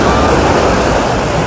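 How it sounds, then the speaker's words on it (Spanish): Small waves break along the shore of Zicatela beach in Puerto Escondido, Oaxaca, a close, loud and continuous wash of surf with no voices. "Las olas son cortitas y están a orillas"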